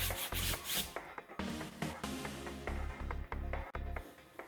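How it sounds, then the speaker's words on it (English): A brush scrubs citrus all-purpose cleaner into a greasy car seat in steady, close back-and-forth strokes, with a continuous rhythmic rubbing and no talking. "Work it in with the brush."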